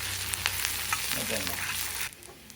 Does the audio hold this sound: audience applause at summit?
no